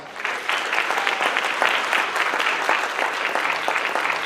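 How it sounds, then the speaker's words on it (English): An audience at a high school celebration applauds its teachers, dense continuous clapping from many people holding an even level throughout. "could we give them a round of applause?"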